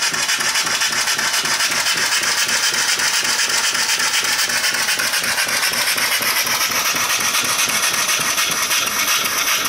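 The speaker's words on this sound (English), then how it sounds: "Nice engine though, runs really good." Small Clint steam engine fed by a steam boiler running steadily, a fast even chuffing and rhythmic mechanical clatter, close and continuous with no pauses or talk.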